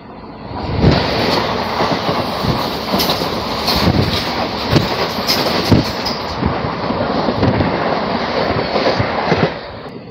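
The 16722 Coimbatore Intercity Express passes close by, loud and sustained, with a rolling roar and a repeated clickety-clack of wheels over rail joints from start to finish.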